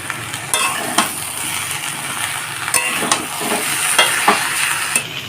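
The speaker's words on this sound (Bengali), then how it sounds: "এখন ভালো করে মশলাগুলো দিয়ে কুমড়ো আলুটাকে কষিয়ে নেব" Pumpkin and potato sauté in a pan with tomato, turmeric, chili and cumin, giving a steady close sizzle broken by regular scraping stirs of the spatula, with no voices.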